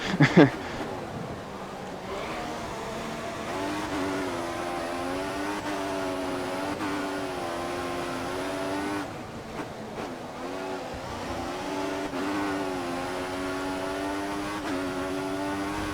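Formula 1 race car engines in F1 2014 at the Malaysian GP, a sustained high-pitched whine holding steady with gear-shift dips, loud and close under a voice talking.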